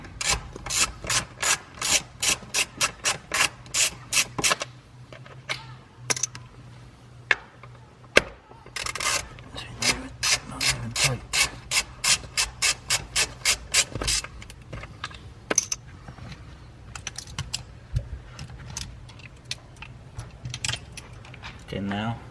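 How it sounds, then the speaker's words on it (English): A ratchet with a 10mm socket removes armrest screws on a C6 Corvette, ticking in quick rhythmic bursts of sharp clicks. The bursts are close and repeated with pauses between them. "These screws need to be removed as well on the armrest. This is a 10mm socket."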